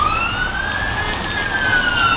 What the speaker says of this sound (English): This is what happens when ambulances try to get by in Jerusalem.